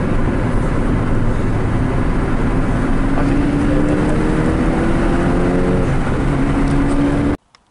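A Mitsubishi Evo with 280 brake horsepower accelerates hard, a loud, close engine roar climbing steadily in pitch for about seven seconds before cutting off abruptly.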